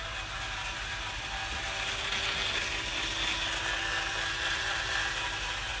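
A Lavedovy electric cleaning brush runs steadily after being switched on, giving a continuous whirring, ratcheting mechanical hum at moderate level with no pauses.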